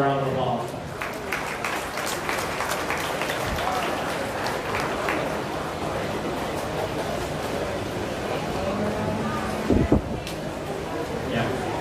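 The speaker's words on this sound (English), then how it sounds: "How about we give those guys all a round of applause?" A crowd applauds at the Louisa County Fair beef show in 2023, a steady, dense wash of clapping that holds for about twelve seconds while voices carry on over it.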